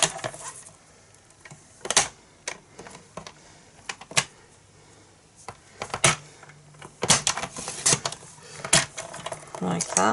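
Paper being trimmed on a paper trimmer for a Valentine's Day fold-flat box, heard as a series of sharp clicks and slicing snaps near and at uneven intervals, with a few quick clustered cuts.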